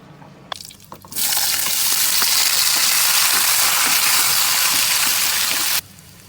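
Fish fries in a hot pan, starting after a few brief clatters and then turning into a loud, steady sizzle close by that stops abruptly near the end.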